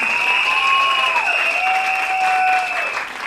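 Steady applause from an audience welcoming a classical dance team fills the space, with a tonal music bed sustained underneath, tapering off slightly at the end.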